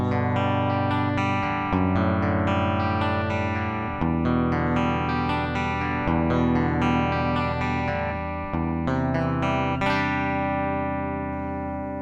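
A Schecter C1 Stealth electric guitar played through its bridge pickup with the coil split rings out in a clean, continuous run of plucked notes and chords, bright and close, with no talking.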